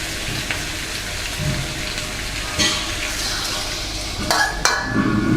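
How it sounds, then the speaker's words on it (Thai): Catfish pieces stir-fried with curry paste in a pan for a spicy Thai stir-fry with stink beans, giving a steady close frying hiss with scraping utensil strokes and a few louder clanks near the end. "ผัดให้เข้ากันครับ พอเนื้อปลาดุกเปลี่ยนสีนะครับ"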